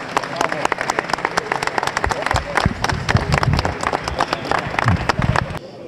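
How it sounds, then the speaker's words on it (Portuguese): A room full of people claps in dense, steady applause at a municipal chamber exhibition event in Osasco, with voices faintly underneath, sustained throughout. "uma salva de palmas para o Agop aqui também."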